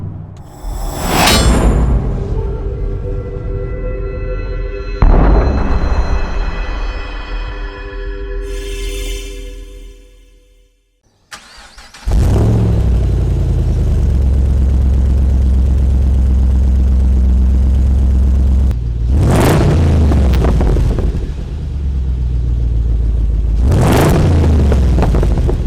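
An HSV LSA R8 Maloo ute with a Di Filippo exhaust drives by loudly, its V8 note surging in several rising revving bursts with whooshing passes and a brief quiet gap, no talk.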